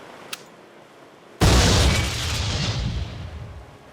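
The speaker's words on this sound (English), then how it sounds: "But if we throw a grenade," A HESH grenade detonates against a reinforced door in the game Memories of Mars, one sudden loud blast after a small click, then a sustained rumbling roar that slowly fades, with no voices.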